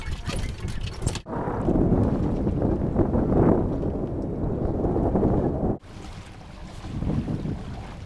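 An Edel sailboat under sail on Cayuga Lake, with steady wind rushing over the microphone and water noise around the hull, loud and continuous apart from two brief dips.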